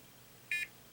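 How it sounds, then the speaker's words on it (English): A single short electronic beep from a WiFi water leak detector, clear and brief, against quiet background. "That's the beep."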